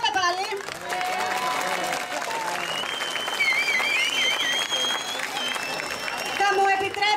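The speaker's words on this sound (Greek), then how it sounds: "Χειροκρότημα, πάμε πάλι." A theatre audience applauds at the finale of a Greek cinema tribute show. Sustained clapping is overlaid with voices and whistle-like tones, staying loud and even throughout.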